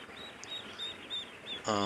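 Seven-day-old Khaki Campbell ducklings give thin, high peeps in a quick series, soft and nearby, and a voice briefly comes in at the end.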